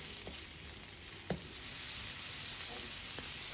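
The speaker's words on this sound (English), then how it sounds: "Allow it to saute, and then we're going in with our bok choy and saute that as well" Shrimp, carrot and bok choy sauteing in a stir-fry pan, a steady soft hiss of sizzling oil with a few faint clicks of stirring, no talk.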